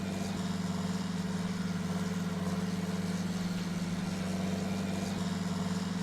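Tractor engine idling in a farming simulator game, a steady low drone with a constant hum and rattle, unchanging and fairly quiet throughout with no talk.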